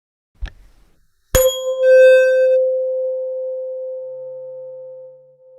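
A soft knock as a tuning fork strikes a rubber hammer sets off a pure, steady ringing tone that sustains for several seconds and slowly fades.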